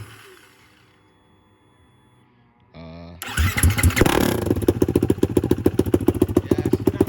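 A 2019 Kawasaki KX450 dirt bike engine with no exhaust fitted starts up after a quiet stretch and runs rough and loud nearby, its sharp uneven pulsing bark dominating the rest of the clip.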